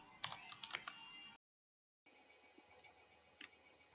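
Typing on a computer keyboard, a few quick close key taps in short clusters, then a brief silence, followed by sparse individual keystrokes over faint room noise.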